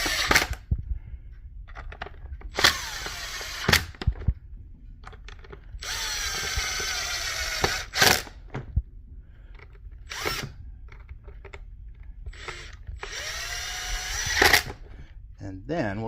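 Power drill driving screws to fasten the rear cover of an arcade laser tag vest, several loud whirring bursts of varied length separated by pauses, with a person talking in between.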